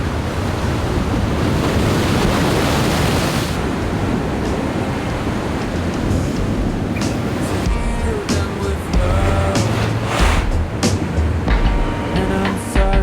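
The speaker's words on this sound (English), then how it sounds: "Dad's trying to kill us down here with these monster waves" Large surf crashes onto rocks along an Australian rock-fishing shoreline at dawn, a loud continuous roar of breaking waves with heavy wind buffeting the microphone throughout.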